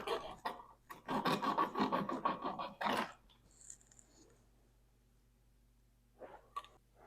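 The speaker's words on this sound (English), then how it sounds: "I'm going to just cut this pipe right off. It's plastic" Cutting tool rasping through a plastic pipe on a Jaguar F-Type, a quick series of close scratchy strokes followed by quiet and a couple of faint clicks.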